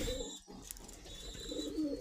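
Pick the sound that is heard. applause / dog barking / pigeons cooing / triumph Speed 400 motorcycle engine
pigeons cooing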